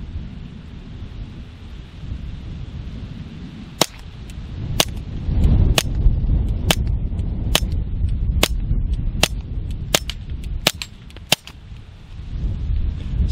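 Suppressed .22 rimfire shots from a Gemtech GM-22 monocore silencer firing Federal subsonic ammunition, about a dozen sharp, close cracks in an irregular string over low outdoor rumble.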